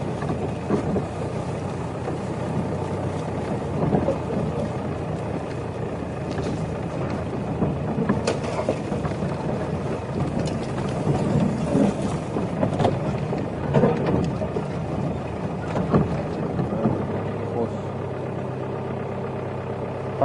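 A safari vehicle idles and rolls off-road through the bush hunting for rhino near a herd of impala, its engine a steady mid-range rumble with occasional knocks and rattles, no voices.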